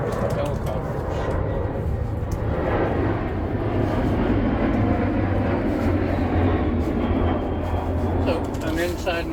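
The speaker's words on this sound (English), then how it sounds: "plane is going to come by" A loud, steady jet roar passes overhead, a continuous broadband rumble that holds throughout with no clear fade.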